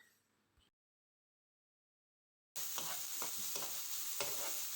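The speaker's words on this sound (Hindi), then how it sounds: "बस इनको मैंने नॉर्मल सा सौते करना है" Onion and potato sautéing in a pan, a bright steady sizzle with scraping stir strokes, heard close for the last two seconds after a faint start and a stretch of silence.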